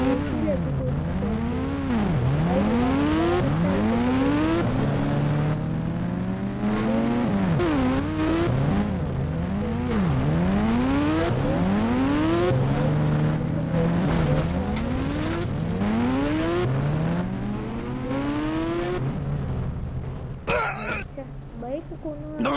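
Rocky Bhai's motorcycle in the Indian Bikes Driving 3D video game revs again and again, its engine pitch climbing and dropping in repeated sweeps, loud and continuous for about twenty seconds before a brief break near the end.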